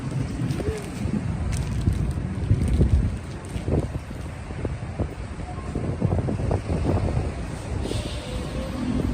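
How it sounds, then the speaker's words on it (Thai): Strong wind gusts outdoors in Pattani, Thailand, buffeting the microphone with a steady low roar that swells and dips for about nine seconds, with no clear voices. "ลมแรงนะครับทีนี้"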